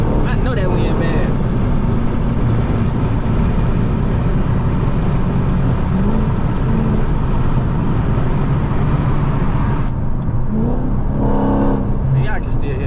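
Straight-piped Dodge Scat Pack exhaust rumbles steadily and loud from inside the moving car, a constant droning roar with wind noise mixed in, plus a brief lift in the tone near the end.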